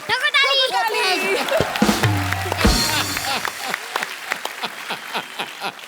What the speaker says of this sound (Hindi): ओ गुरु, ठोको ताली।